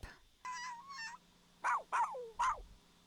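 Mothman pup creature from The Sims 4 letting out several short, raspy cries; two early wavering calls give way to three louder, sharper screech-like bursts, close and with no talk over them.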